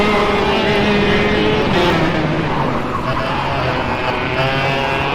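A go-kart engine in the KartKraft racing game buzzes at high revs with tyre scrub as the kart slides twitchily through a corner, heard close and continuous under faint commentary.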